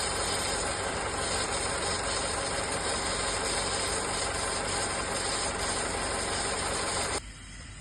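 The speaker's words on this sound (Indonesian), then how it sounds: "Ini mesin nyala." A second-generation Honda CR-V engine with a smoking fault hums and hisses at idle throughout, fairly loud and constant, then drops off abruptly near the end.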